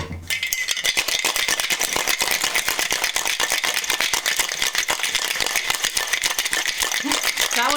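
Hard ice rattles loudly inside a pink cocktail shaker, a fast, continuous clatter of rapid shakes up close that fills the whole stretch without a pause.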